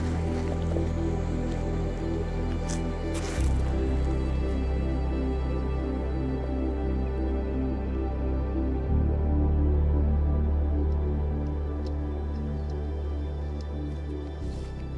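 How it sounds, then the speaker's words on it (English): Water boiling on a camping stove beside a sea loch, a steady rolling bubbling and hissing roar with faint drips, fairly close and continuous with no talking. "Right, that's my water boiling."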